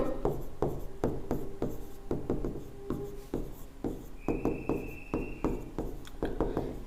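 Pen or marker strokes during a mathematics lecture on virtual work, a close series of quick scratchy taps and short scrapes in irregular bursts, with a brief squeak, and no talking.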